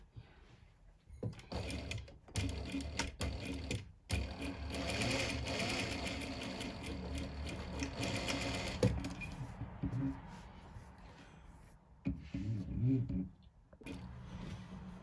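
A sewing machine stitches a back tack on a centred zip seam, its whirring run broken by stops, clicks and short bursts as the direction reverses, with a voice talking over parts of it.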